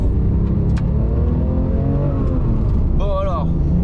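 A Porsche GT3 RS on a race track, its engine a loud, close rumble throughout with a rising rev near the end, while people talk over it.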